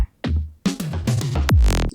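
Psytrance drum pattern with a deep kick, a tom and a punchy drum fill, dense hits in quick succession ending in a sweeping, booming tail.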